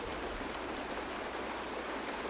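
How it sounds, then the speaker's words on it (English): Steady rain falls in the Honkai Star Rail game's Penacony setting, a continuous even hiss of drops on surfaces with no breaks, moderately loud and filling the scene on its own. "It's raining."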